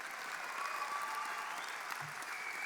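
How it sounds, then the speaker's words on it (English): Steady applause from the audience at a university convocation ceremony, a dense, even wash of clapping hands sustained throughout without gaps, moderately distant and fairly quiet. "you can give them a round of applause"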